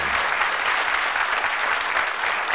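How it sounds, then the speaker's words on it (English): A TV game show studio audience at a darts quiz applauds warmly, a dense, steady wash of clapping held throughout without speech. "Give them a nice warm round of applause."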